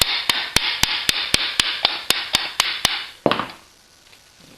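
A hammer taps a steel CETME/HK rifle receiver in a quick, even series of about a dozen bright metallic strikes over a rasping scrape, then one heavier knock and quiet.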